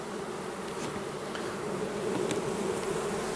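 A dense, steady buzz of many honeybees around an open hive, close by, continuous and fairly loud throughout.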